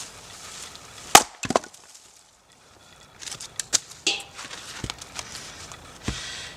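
A wooden scrap wedge is driven into a partly split log, giving a few sharp woody knocks and cracks at irregular intervals, one loud hit early, then a brief lull and a cluster of lighter taps and creaks outdoors.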